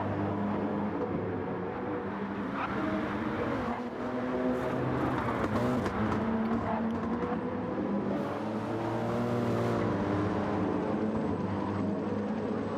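Race car engines drone and rev in a video game race on the Deep Forest track, layered engine tones rising and falling continuously as cars run close together, with no talk.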